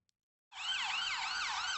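An ambulance siren wails loud and steady, its pitch sweeping up and down in repeating cycles after a brief silence, with no talk over it.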